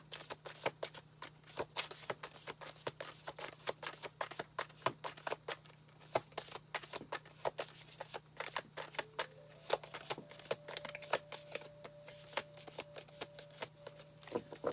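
Tarot cards being shuffled in a steady run of soft riffling slaps and flicks, close and fairly quiet over a low hum, with a faint thin tone creeping in toward the end.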